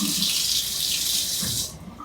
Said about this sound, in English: let me wash my hand off here